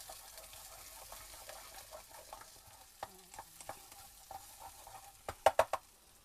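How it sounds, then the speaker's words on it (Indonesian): A spoon stirs nasi goreng with green chili and meatballs in a frying pan, giving a soft, steady scrape and sizzle that ends in a few sharper metallic knocks against the pan. "kita aduk lagi"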